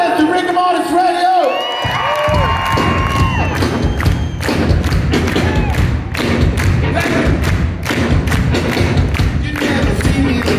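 An audience at a rock concert in Los Angeles claps in steady rhythmic unison, loud and dense, with cheering and shouts from the crowd mixed in.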